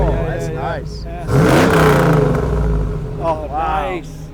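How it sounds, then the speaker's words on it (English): Pontiac Trans Am exhaust revving up in short bursts, a loud roaring rise and fall close by, with people talking over and between the revs. "Listen to that exhaust."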